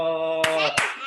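A few quick hand claps sound close by, three or four sharp bursts in about a second, following a brief tonal hum, with no voices.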